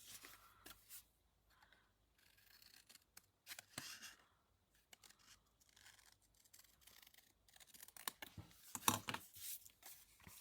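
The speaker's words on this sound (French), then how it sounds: "au ciseau, tout simplement." Scissors snip through paper card while a pop-up card is made, giving a quiet, irregular series of short cutting crunches and rustles close to the microphone with pauses between them.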